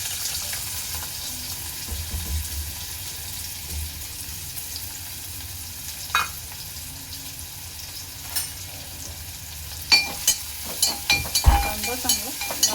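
Finely chopped onion and green chili dropped into hot oil for a prawn kheema, a low continuous sizzle with scattered crackles and pops growing busier toward the end, no talking over it.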